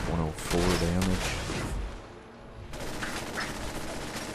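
Shotgun blasts in Fallout 4 during a fight, a few heavy booms mixed with combat noise, while someone talks early on.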